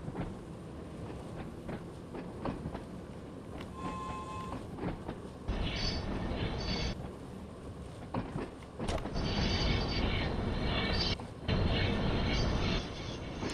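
An old train on the Isle of Wight in the Train Sim World 5 video game creaks and rumbles as it runs, with continuous low rolling noise, hissing bursts and a brief tonal squeal, moderately loud and steady with no talk.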